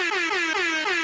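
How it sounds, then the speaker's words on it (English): A loud, sustained air horn blast with a slightly wavering pitch, holding steady for about a second. "the air horn's a better level"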